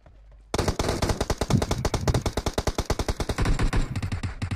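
Rapid automatic gunfire in the battle royale game PUBG Mobile bursts in after a quiet moment, a loud, close, evenly spaced stream of about forty shots with no talk.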